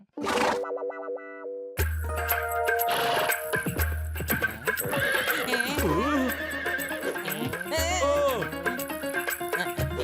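A cartoon robot horse from Motu Patlu whinnies and clip-clops loudly after a short musical sting, with repeated hoof clatter and neighs over a busy animated soundtrack.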